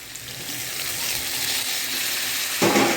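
Vegetables and prawns fry in a pan with tomato and green chilli, a steady close hiss of sizzling oil that swells briefly louder near the end.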